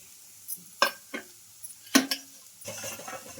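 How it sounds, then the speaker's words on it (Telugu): Onions and grated carrot cooking in a pan, with a few sharp clinks and scrapes of a spoon stirring, followed by a soft sizzle toward the end. "బాగా ఫ్రై చేసుకుందాం ఆనియన్ కొంచెం కలర్ చేంజ్ అయ్యే వరకు అయితే ఫ్రై చేసుకోవాలి"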